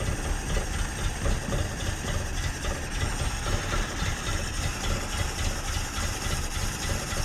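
A 1969 Datsun 521 engine idling roughly on a cold start, a steady mid-low rumble with uneven pulsing, moderately close and alone without talk.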